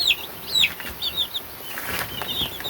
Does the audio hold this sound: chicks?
yes